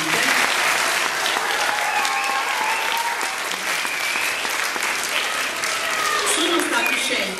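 Audience at a school choir concert applauds steadily, a dense continuous patter of many hands clapping throughout, with some voices mixed in.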